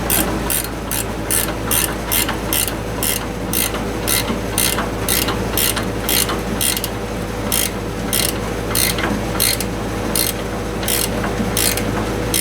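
A ratchet clicks in quick, regular bursts while tightening small brass fittings on a 50,000 BTU Mr Heater propane furnace in a shed, the loud rapid pawl clicking going on steadily throughout with no talking.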